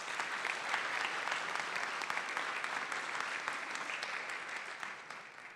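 Audience applause at a public policy forum in Mexico City, steady dense clapping from a seated crowd that holds even throughout and tapers slightly at the end, moderately distant in a hall.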